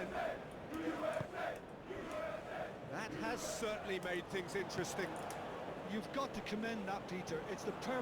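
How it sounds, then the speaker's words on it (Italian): Excited American fans cheer at a 2026 World Cup match against Paraguay in Los Angeles, a dense, steady crowd roar with shouts rising and falling under commentary throughout. "Di tifosi americani gasatissimi."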